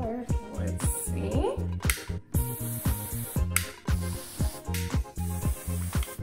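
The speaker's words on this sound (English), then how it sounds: "Now we're gonna try their other hairspray." Aerosol hairspray, a Monat refinish control spray, hisses in repeated short bursts with a steady rhythmic spray pattern, fairly loud and close, with rattling, clicking background noise running throughout.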